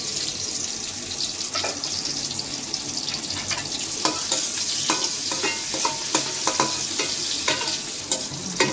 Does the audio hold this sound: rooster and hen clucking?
no